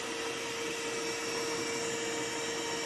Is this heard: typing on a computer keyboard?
no